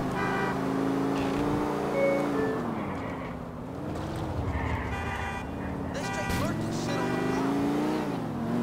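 A car in Grand Theft Auto IV drives over a sidewalk, its engine droning steadily and shifting pitch as it speeds up and slows down, fairly close, with a few other sounds layered on top.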